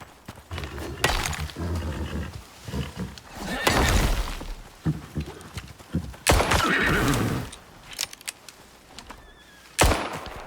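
Repeated loud horse whinnies and snorts in the video game Icarus burst out in several bursts, mixed with clattering hooves and sharp impacts, close and intense.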